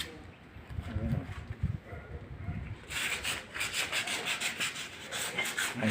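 Wood is sanded by hand with sandpaper in steady rubbing strokes, the gritty scraping growing louder and more regular in the second half.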